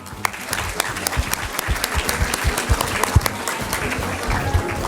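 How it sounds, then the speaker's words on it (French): A concert-hall audience at a Francophonie contest claps warmly for high-school students, a dense, steady round of applause with individual claps popping out, close and fairly loud. "Merci de les applaudir."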